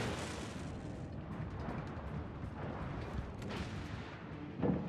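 Warship main guns fire a broadside in a naval combat video game, the booming salvo landing near the end over a continuous dense rumble of battle noise.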